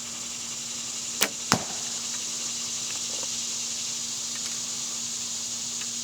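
A Hoyt bow looses a wooden arrow, giving a crisp string crack and then a heavier thud a split second later, close and clear against a constant background hiss.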